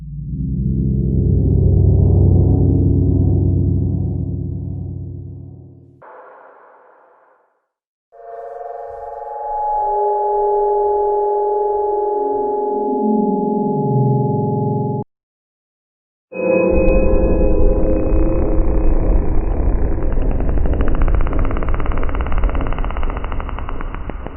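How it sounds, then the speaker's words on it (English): Minecraft game sound effects play in sequence: a loud broad rumble, short silences, a descending tonal sweep, then a dense droning noise, all loud with no voices. "All those sounds came from Minecraft"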